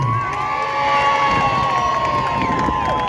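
A crowd at a Zulu community event cheers and shouts, with a steady wash of voices, whoops and possible clapping filling the space; a sustained tone runs through it and no distinct speech stands out.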